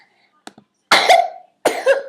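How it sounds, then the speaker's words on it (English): A two-year-old boy coughs close by. A few faint throat sounds come first, then two loud, rough, separate coughing bursts, each about half a second long, with quiet between them. "my little 2-year-old is sitting with me and he's coughing"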